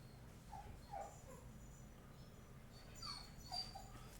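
A small pet dog whimpers softly in a few short, plaintive whines, faint and slightly distant over a low background hum.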